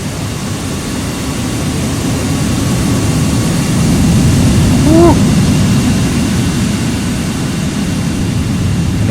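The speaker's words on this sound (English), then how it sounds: "Oh, listen to those engines." Jet aircraft engines at an airport in the AirportSim game give a steady, loud broadband roar that swells slightly midway and holds, with a brief chirp near the middle.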